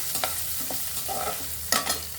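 Sprouted gram frying in a tempering with grated coconut, giving a steady low sizzle broken by a few sharp stirring scrapes and clinks, close and without talk.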